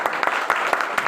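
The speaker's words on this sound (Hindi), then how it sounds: "आप एक ऐसी इंडस्ट्री में एक बार जबरदस्त तालियां दीजिए।" Audience applause after a call for a big round of clapping at a leadership training program in Agra, with several claps standing out over a steady, moderately loud clatter.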